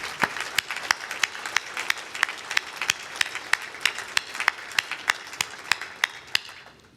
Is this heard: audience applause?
yes